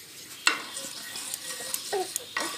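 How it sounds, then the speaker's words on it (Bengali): Black cumin seeds being stirred in hot mustard oil in a pan, with a steady soft sizzle and a few sharp scraping clicks of the spoon against the pan, close and alone. "কালো জিরে হালকা একটু নাড়াচাড়া করার পর"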